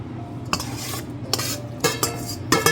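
Low carb, gluten free fettuccine is stirred into heated sauce in a pan, with a faint simmer underneath and a few distinct clinks and scrapes of a utensil against the pan, close and without speech.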